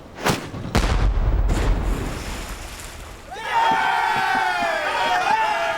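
A ship's starboard bow chaser cannon fires at sea, several heavy booming blasts in quick succession rolling into a roar with crowd shouts, then a sustained high shrill tone takes over.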